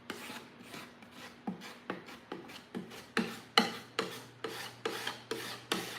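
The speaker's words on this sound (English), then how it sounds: "you're gonna take just a little bit on your spatula. We're gonna come in this crack" A spatula scrapes wood filler into a crack in a piece of furniture, a series of about a dozen short, rasping strokes in a steady rhythm, close and fairly quiet with no talk.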